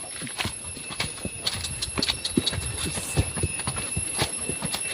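A ridden horse's hooves clip-clop at a steady walking pace on an outdoor trail among large trees, with close, clear, evenly spaced thuds and a high electronic whine in the background.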